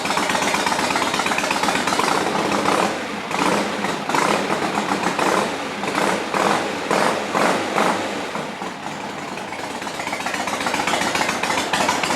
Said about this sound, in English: So I'm going to cut the petcock off and run it out of fuel so that the carburetor won't gum up